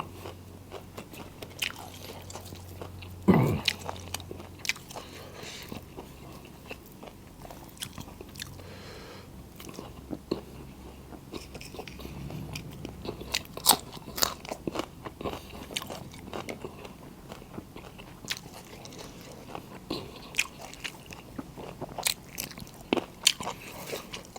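Crunchy Thai som khi pla being bitten and chewed close to the mic, with repeated crisp crunches and soft wet mastication sounds running steadily throughout, no talk.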